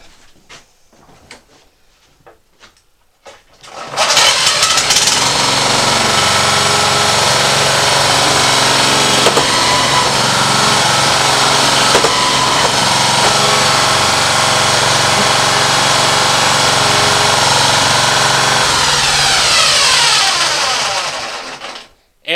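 A Honda HRA214 SX self-propelled lawn mower, just repaired after a missing transmission spring, starts and runs with a loud, steady engine drone that holds for nearly twenty seconds before cutting off, close by with no talk.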